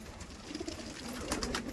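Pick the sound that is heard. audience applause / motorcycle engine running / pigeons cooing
pigeons cooing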